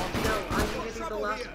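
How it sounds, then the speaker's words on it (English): Gunfire in the online multiplayer game Deceit, a burst of sharp shots packed into about a second and a half, heard over game noise and partly masked by players talking. "Number 6 started shooting."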